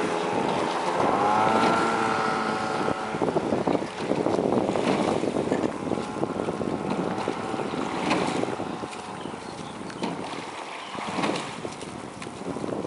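A motorboat engine drones steadily under heavy wind buffeting on the water during rowing training, loud and close, with a brief whistling tone early on.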